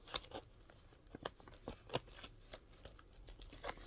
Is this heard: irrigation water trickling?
no